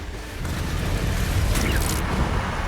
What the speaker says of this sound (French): Ça, c'est de l'explosion.